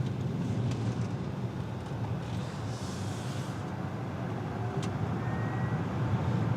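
A 2026 Hyundai IONIQ 9 electric SUV driving and accelerating, heard from inside as a steady broadband road and tire rumble with a faint rising hum, constant and moderately loud, with no talking.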